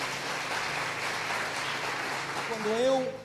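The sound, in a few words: congregation applauding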